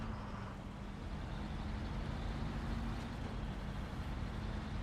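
Loud truck engine in the video game SnowRunner, a steady dense low drone with a faint constant whine on top, running continuously without pause or talk.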